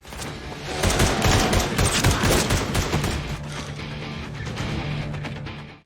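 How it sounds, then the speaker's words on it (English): Sustained heavy gunfire from a film shootout rattles in dense, rapid volleys close up, with crashing impacts throughout and no pause for the full length. "He pulled out a gun and started shooting at Garen."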